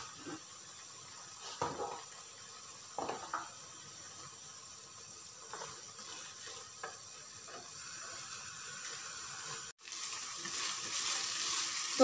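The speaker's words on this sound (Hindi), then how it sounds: "ऑयल ऐड करके मैं इसको भूनूंगी अच्छे से" A spiced mixture for aloo qeema, with potato and mince, sizzles in oil as it is stirred and fried. A steady, close hiss runs throughout, broken by several scraping stirs, and it grows slightly louder toward the end. No one speaks.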